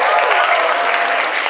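Audience applause at an eighth grade graduation ceremony as students come forward for presidential awards, a dense, steady wash of clapping from a crowd filling the whole short stretch at even loudness.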